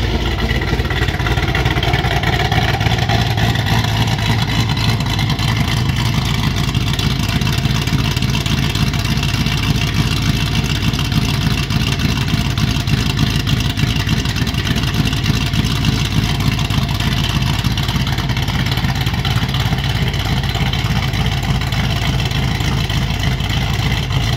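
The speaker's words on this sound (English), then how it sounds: "I've been driving the car around, went ahead and took it for a ride later that day." A steady, loud engine drone from a 2007 Shelby GT500 with a TR6060 manual gearbox runs throughout, a continuous mid-pitched rumble of the car cruising along, with no voices.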